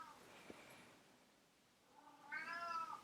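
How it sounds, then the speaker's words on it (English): A house cat meows faintly in the background, one soft drawn-out cry near the end after a quiet stretch of low room noise. "There's my cat meowing in the background just for fun."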